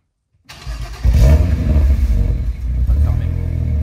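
A BMW 1M or BMW M2 Competition engine cranks and starts, then revs loudly with a deep, rumbling exhaust that stays close and steady.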